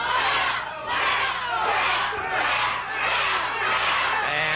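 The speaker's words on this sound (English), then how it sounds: "And now the crowd picking up a chant" A packed crowd at a 1984 CWA professional wrestling match chants in a steady, rhythmic pattern, a loud roar rising and falling in regular beats.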